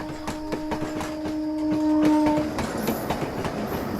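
A passenger train runs along the tracks, its wheels clattering in a steady rhythmic clickety-clack, with a sustained horn-like tone in the first half, loud and close with no talking.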